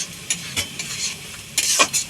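A spatula stirs boiled carrots in a wok for gajar halwa, scraping in a few short, close strokes over a light sizzle, with no talking.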